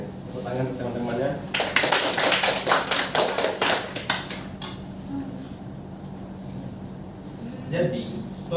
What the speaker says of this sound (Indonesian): Oke, tepuk tangan teman-temannya.